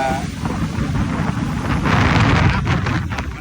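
Strong wind buffets the microphone on a Gulf Coast beach on Anna Maria Island, Florida, a constant loud rumbling roar with gusty swells.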